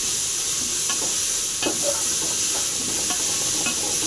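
Mint frying in a pan for chicken biryani is stirred with a spoon, giving a continuous sizzling hiss with scattered scraping and clinking strokes close up.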